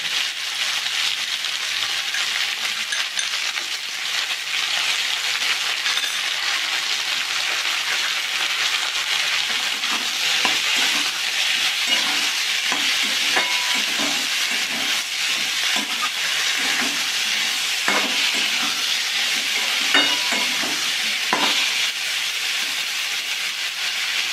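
Vegetables for vegetable chops cooking gently in oil on low heat, giving a soft, continuous hiss and faint crackle that stays even throughout with no voices.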